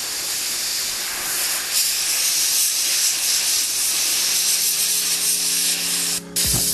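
A Patriot 105 spray gun sprays with a steady, loud hiss of compressed air, continuous for several seconds before a brief cut near the end.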